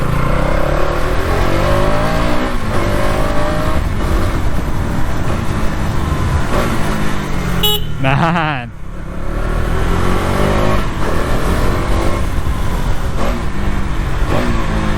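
A 2026 KTM Duke 200 motorcycle revs hard and loud up close, its engine note climbing steadily, then briefly cutting out during a quick short shift before pulling again, with a rider's voice talking over it.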